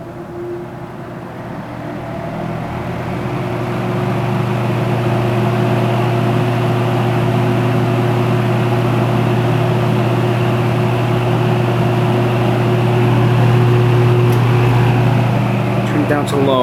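A Toastmaster 5326 appliance motor runs steadily on its high setting, giving a loud continuous hum and whir that swells slightly after the first few seconds and holds constant throughout, with no talking.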